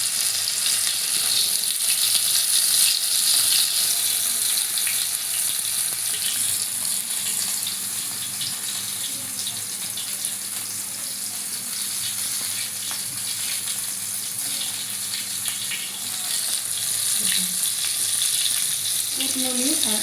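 Masala-coated bombil (Bombay duck) fish frying on a hot iron tava, giving a loud, steady sizzling hiss that runs continuously for the full length with no talk over it.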